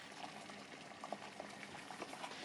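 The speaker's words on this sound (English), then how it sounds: "in the boiling water, you're going to put in some trimmed green beans" Water at a steady rolling boil in a cooking pot on the stove, ready for green beans and potato gnocchi, a continuous close bubbling hiss with small pops and no voices.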